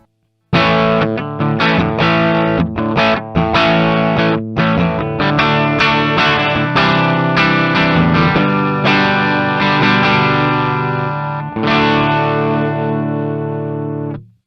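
Electric guitar played through a Mooer GE200's Marshall JCM800 amp emulation with reverb off rings out in crunchy distorted chords and riffs, loud and continuous for about fourteen seconds before a sudden stop.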